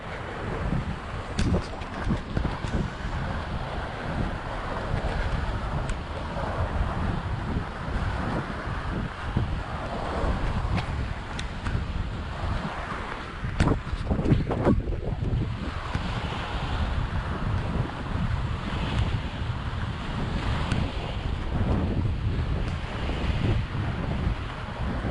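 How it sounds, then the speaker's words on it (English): Sea waves and gusting wind at Wallasey breakwater, a continuous broad rushing wash of surf mixed with wind buffeting the microphone, swelling slightly in places, with no voices present. "Isn't the sound of the sea just so beautiful?"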